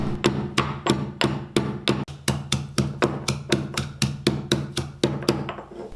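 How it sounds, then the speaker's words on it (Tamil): Garlic and ginger are pounded coarsely in a mortar and pestle for an egg roast, producing a steady run of about eighteen close, sharp thuds at an even rhythm with no talk. "3 பல்லு பூண்டு, கூடவே 1 இன்ச் அளவுக்கு இஞ்சி, இதை 3ஐயும் போட்டுட்டு நல்லா கொரகொரப்பாக தட்டி எடுத்துக்கலாம்"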